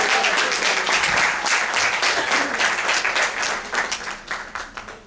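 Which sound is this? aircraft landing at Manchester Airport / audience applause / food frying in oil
audience applause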